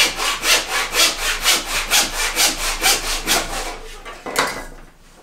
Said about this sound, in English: Alright, we'll do one cut here with this line.